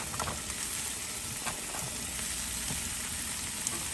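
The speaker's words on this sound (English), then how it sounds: "At this time, I'm going to go ahead and put my carrots in there because they take the longest to cook." Carrots stir-frying with ginger in a hot pan for chicken and rice, a dense continuous sizzle with a few faint stirring scrapes, no talking.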